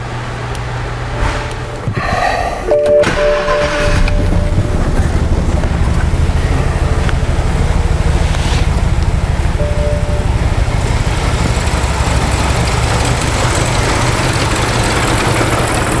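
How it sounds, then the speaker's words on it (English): A 2006 BMW 550i V8 with a camshaft fault code cranks briefly with a loud starter whir, then catches and settles into a steady, loud idle that continues throughout. "I want to get this while I'm cranking the car."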